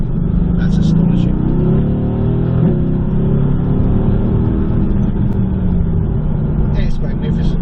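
A Mercedes AMG GTS accelerates with a loud, continuous engine roar heard from inside the car as the pitch rises and falls, while people talk over it now and then.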